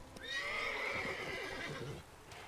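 Roach, the horse in The Witcher 3, gives a loud close whinny lasting about two seconds, with hoof clatter beneath it.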